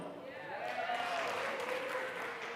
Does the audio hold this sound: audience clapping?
yes